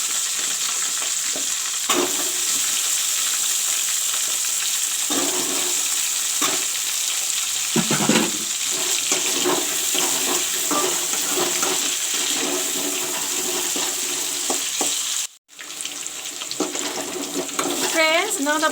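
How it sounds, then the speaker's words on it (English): Potatoes fry in hot oil in a pan after pumpkin, a loud dense crackling sizzle running steadily throughout with occasional stirring scrapes and a brief dip near the end. "now I will fry the potatoes"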